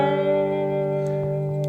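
Slide blues intro on a cigar box guitar, sustained twangy harmonic notes ringing steadily with light reverb, played alone at moderate volume.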